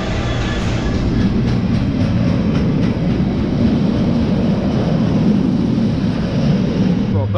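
A train rumbles steadily through a station at close range, loud continuous rolling noise with faint rhythmic clicks from the wheels.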